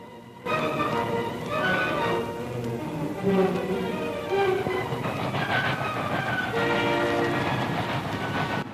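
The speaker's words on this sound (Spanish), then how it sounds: "Se acercaban los últimos trenes." Soviet military trains in 1945 rumble and clatter nearby as a horn sounds several times, the wagons rolling steadily throughout.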